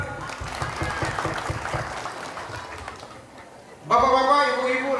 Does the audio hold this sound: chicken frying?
no